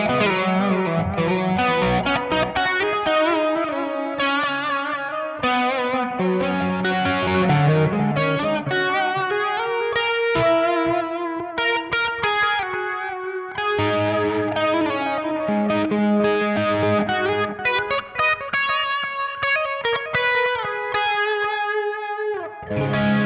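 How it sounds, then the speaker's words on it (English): Electric guitar played through the Donner Hush X Pro's amp simulation with delay and reverb, a continuous run of distorted, effects-laden notes and chords that rings out steadily and loud for the whole stretch, with no talking. "It has tone simulation, it has effects, amp, delay, and reverb, all of them."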